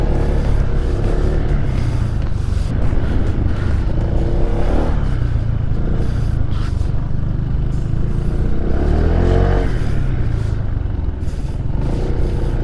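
Honda Vario 160 motor scooter engine on a test ride, a steady dense drone with broad road and wind rush throughout, swelling slightly mid-ride, loud and close with no talk.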